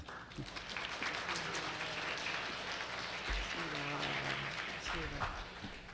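A church congregation at a Christmas Wednesday service claps to welcome a preacher, a sustained dense applause with some voices mixed in throughout.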